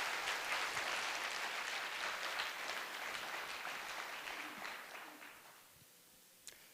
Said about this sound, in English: Let's God give big applause